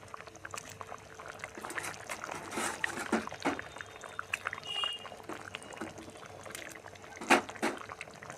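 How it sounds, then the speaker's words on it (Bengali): Puti fish going into a pan of simmering potato fish curry: soft bubbling and gentle splashing, with a few louder liquid plops near the end, fairly quiet throughout. "এখন দিয়ে দেবো মাছ"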